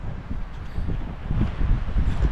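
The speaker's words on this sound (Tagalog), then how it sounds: "Grabe yung hangin, napakalakas oh." Strong wind buffeting a tent campsite, a low rumbling gusty roar pressing on the microphone, steady and close with rising intensity.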